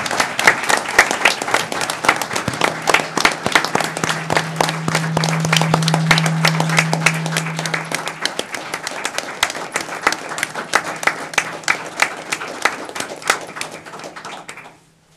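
Applause at a San Angelo city council meeting in honour of Chief Brian Dunn, a roomful of people clapping steadily and loudly for about fifteen seconds before it thins out and stops, with a low hum underneath.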